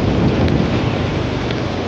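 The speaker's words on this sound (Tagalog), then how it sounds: "Ay! Grabe! Lakas ng ulan!" Heavy rain pours in a steady, dense roar with rumbling low thunder mixed in, close and loud throughout with no pauses and no voices.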